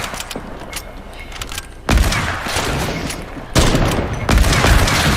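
Video game gunfire crackles in sharp bursts, with loud, abrupt volleys at two points over a busy background of game effects, close and with no one talking over it.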